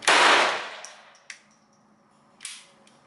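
One sharp, close gunshot cracks from a Taurus TX22 Compact pistol and fades quickly. A few faint metallic clinks follow in otherwise quiet surroundings.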